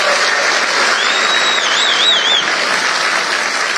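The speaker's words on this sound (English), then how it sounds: "Give that man a round of applause." An audience at a live political campaign event breaks into steady, loud applause that fills the space for a few seconds, with a faint whistle rising over the clapping.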